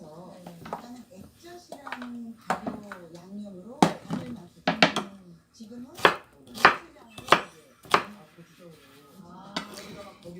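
A knife roughly chops onion on a cutting board in uneven, sharp knocks, close by, while a person talks over the cutting.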